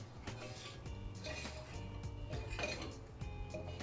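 Creamed butter and sugar mixed in a bowl with whole-grain flour for a diabetic-friendly chocolate chip dough, heard as steady clinking and scraping of a utensil against the bowl, continuous and close, with no voices.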